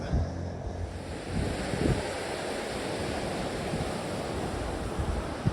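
The Pisco river runs beside a mountain road, a steady broadband rush of flowing water with some wind noise, constant and fairly close, with no voices.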